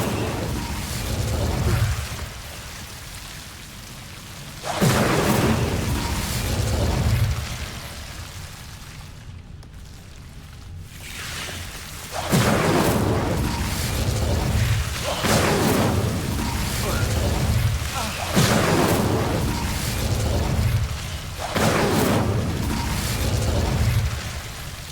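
Repeated Incendio fire spells cast in Hogwarts Legacy, several loud bursting whooshes in rhythm over a steady game backdrop, with a brief quiet gap midway and talk nearby.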